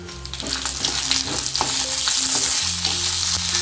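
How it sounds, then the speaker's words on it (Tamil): Green chilies, dried red chilies and curry leaves frying in oil for a roasted-spice chicken curry, crackling in a constant dense sizzle with steady scraping stir strokes, loud and close, and no one speaking. "இந்த மிளகாய், வரமிளகாய் எல்லாம் போட்டு லைட்டாக கொஞ்சம் ஃப்ரை பண்ணிவிட்டு கொஞ்சம் கருவேப்பிலை இதுக்கு போட்டுக்கலாம்."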